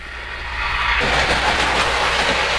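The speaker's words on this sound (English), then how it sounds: "see if we can get the Polar Express passenger train up to the upper level" A Polar Express model passenger train runs on its track, giving a steady, close rolling clatter that grows louder after a second and then continues evenly.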